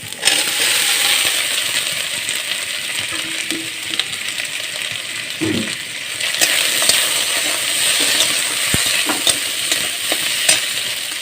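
Potatoes frying in a pan for a thor and dal dish, giving a continuous bright sizzle with occasional scraping stirs and small clinks, close and loud with no talk.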